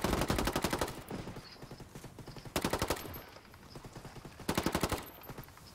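Bursts of automatic gunfire crackle in a video game firefight on a mountain village map, three rapid volleys separated by quieter gaps with distant shots, no voices.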